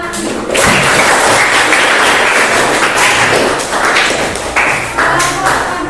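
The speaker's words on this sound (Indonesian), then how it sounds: "Udah tepuk tangan untuk penyanyi lagi." Applause for a singer in a school class setting, a dense, loud burst of many hands clapping that holds steady for several seconds, close and busy with some thumps mixed in.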